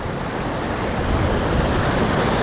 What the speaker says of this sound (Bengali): এই যে জল ওপর থেকে পড়ছে